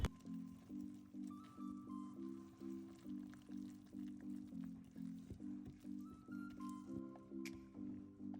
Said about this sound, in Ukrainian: Я замішую руками, але якщо маєте планетарний міксер, можна використати його